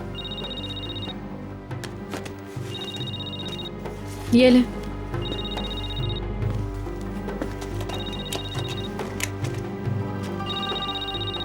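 A telephone rings in a Hindi-dubbed Turkish drama scene, its regular bursts repeating about every two and a half seconds under background music and a brief spoken line.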